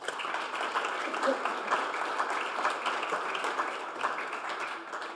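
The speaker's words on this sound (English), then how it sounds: "Round of applause for Ryan." Audience applause for a presenter at an all-team company update meeting, a dense steady wash of clapping lasting several seconds at even loudness.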